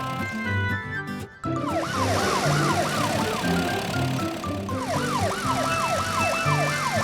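Cartoon police car siren wailing in a rapid rising-and-falling yelp, loud and close, starting after a brief musical intro and repeating in two runs over background music.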